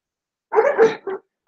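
Dogs barking close by, a loud run of two or three rough barks in quick succession with short gaps between them.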